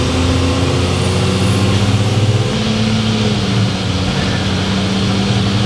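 A converted bus with a failing alternator and dying battery drones along the road, its engine giving a loud, steady low hum with tonal harmonics that shift slightly as it drives, heard close from inside.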